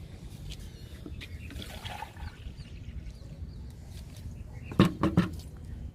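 Aloe vera liquid is poured from a container onto potted hibiscus and jasmine plants, a faint soft trickle with some light patter, ending in a few louder splashy drips near the end.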